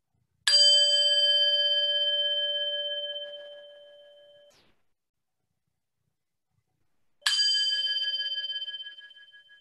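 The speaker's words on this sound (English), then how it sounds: "I'm going to ring the bell to bring us more formally into this meditation" A meditation bell is struck twice, each strike a clear, bright ring that sustains and slowly fades over several seconds, with a pause of silence between them.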